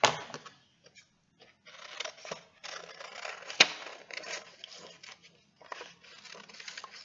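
Scissors snip around a paper circle for a face piece on a garland craft, producing close, irregular crisp cuts and rustles of paper in short bursts with brief pauses, no talking.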